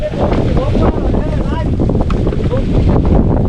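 Strong gusting wind at a hilltop fort buffets the microphone with a loud low rumble, and voices speak faintly beneath it.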